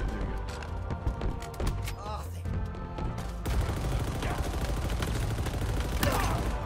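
A minigun in Halo Infinite multiplayer fires in long, dense, continuous bursts, choppy at first and then a steady loud stream, alongside other game noises.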